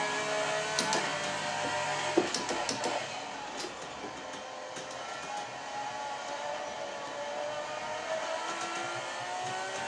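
A Ferrari 458 Italia engine in a racing simulator game at Mugello revs and whines in steady rising and falling tones, quiet and close, with scattered sharp clicks and no talk.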